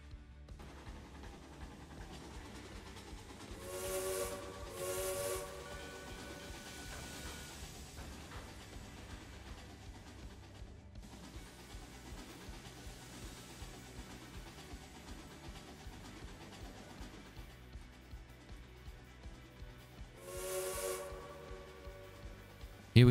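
Passenger train in the Trainz 2019 simulator pulling into a station on the Brighton branch, with steady rhythmic rail clatter and engine rumble, punctuated by two loud horn blasts early on and another near the end.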